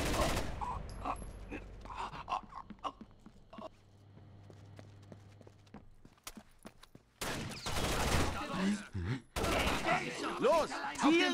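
Bursts of automatic gunfire in the tactical shooter game Rainbow Six Vegas 2, loud and dense, come in two heavy volleys near the end after quieter stretches of footsteps and scattered single shots.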